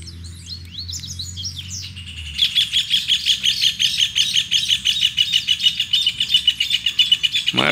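Coleiro seedeater bird sings close and loud, rapid repeated chirping phrases over soft ambient sounds, continuous after a quieter start.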